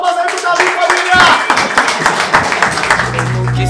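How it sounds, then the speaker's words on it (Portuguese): Crowd at a Brazilian freestyle rap battle, Batalha da Aldeia, clapping loudly and continuously, with dense overlapping claps and a host's voice talking over the applause. "Palmas aí pro Davi, família!"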